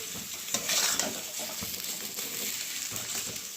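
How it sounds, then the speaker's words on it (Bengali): Potatoes tossed into a pan of sizzling ground spice paste with dried red chillies, the filling for crisp singara, frying with a soft steady hiss and scraping stirs close by. "মশলা ভাজা হয়ে গেছে, এবার আলুটা দিয়ে দেবো।"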